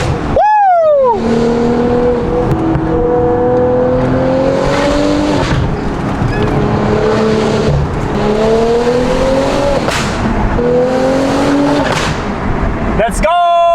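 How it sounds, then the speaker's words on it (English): An Audi S5 with a Valvetronic valved sport exhaust and downpipe revs hard and loud through several gear shifts, each change marked by sharp pops and cracks, with excited voices shouting over the engine. "Turning an S5 into an SVJ with the Valvetronic system."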